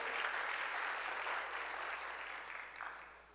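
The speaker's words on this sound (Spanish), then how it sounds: "eso sí que merece un aplauso" Church congregation applauding after a sermon line, a dense wash of many hands clapping that fades gradually over a few seconds, with no voices on top.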